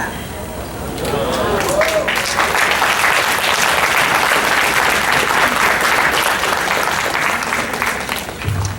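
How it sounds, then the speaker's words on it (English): Audience applause at a fundraising gala, a dense, loud wash of clapping that swells in after a second and holds steady, with some whoops and crowd voices mixed into it. "if we can just give her one more round of applause."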